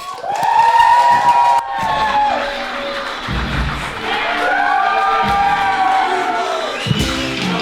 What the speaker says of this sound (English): Please give a big round of applause to your hosts from the afternoon podcast, Josh Macuga and Ken Napzok.